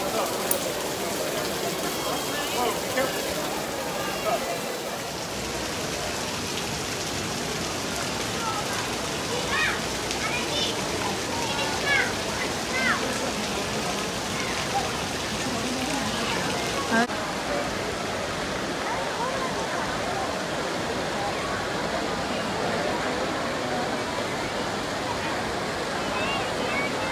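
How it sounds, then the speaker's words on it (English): Water splashes and rushes steadily at the Trevi Fountain in Rome, a broad continuous wash of falling water with crowd voices and talk faintly mixed in throughout. "About to make a wish at the Trevi Fountain"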